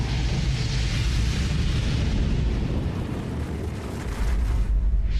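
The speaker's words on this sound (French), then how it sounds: "L'impact dégage un souffle d'explosion surchauffé qui réduit tout en cendres sur son passage." The blast of an asteroid impact roars as a dense, sustained rumble of deep explosive noise, loud and continuous without a break, easing slightly midway before swelling again.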